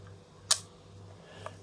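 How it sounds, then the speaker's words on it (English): A 1950s Agfa Super Silette 35mm rangefinder fires its leaf shutter at 1/125, one crisp quiet click up close, followed by a faint smaller tick. "I can put it on a normal sort of speed, say 125th, and then you hear the shutter."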